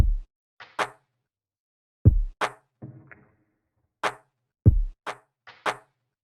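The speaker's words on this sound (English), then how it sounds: "I jumped onto the drums and I came out with this pattern" A lo-fi beat drum pattern loops alone: punchy kicks, crisp snares and a soft rattling hit repeat in a relaxed rhythm, with no voice over it.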